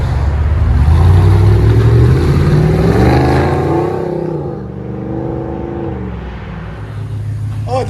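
A Ram Power Wagon's 6.4L Hemi revs loudly and close through its exhaust, the deep roar climbing in pitch and then easing back down to a lower rumble.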